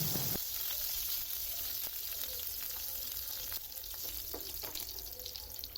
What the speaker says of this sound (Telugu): 1 స్పూన్ పచ్చిశనగపప్పు, 1 స్పూన్ ఆవాలు, 1 స్పూన్ జీలకర్ర, అలాగే ఒక 10 వెల్లుల్లి, 2 ఎండుమిర్చి వేసి ఒకసారి అవి ఫ్రై చేసుకోవాలి.